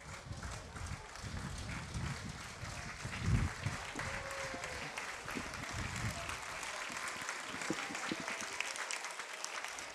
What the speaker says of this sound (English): the applause around the ground is for Coleman Ware, who is coming off